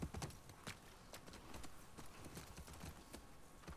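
Horse hooves clip-clopping at a steady walking rhythm while riding through a city in The Last of Us Part II, quiet and close with no one speaking over them.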